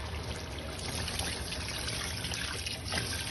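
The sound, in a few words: pouring water into biryani pot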